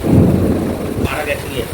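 A loud, deep rumble of thunder rolls for about a second, then fades into the steady hiss of rain.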